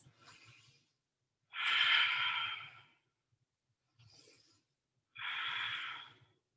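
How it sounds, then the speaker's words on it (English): During a yoga flow, two deep breath cycles are taken, each a short inhale followed by a longer, louder exhale, close and clear against near silence. "2 big breaths."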